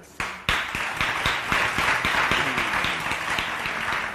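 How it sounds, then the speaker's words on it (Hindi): A studio audience at a celebrity interview breaks into applause, a steady, fairly close run of many hands clapping with sharp individual claps standing out, no talk over it. "तालियां"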